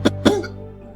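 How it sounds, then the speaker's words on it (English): A person coughs twice in quick succession, close and fairly loud, in a quiet indoor scene from a Nollywood short film, with a brief low tail after the second cough. "Are you still coughing?"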